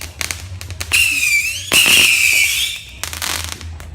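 Saturn missile fireworks from a 50-shot battery, rapid bursts of pops followed by shrill whistling streaks as the rockets fly off, loud and close in an outdoor setting.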